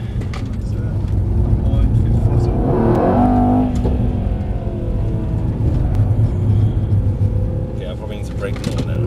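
A Mercedes-AMG E63 works around the Mercedes-Benz World race track with a deep, rumbling engine that swells briefly as it accelerates, heard from inside the car with steady road noise.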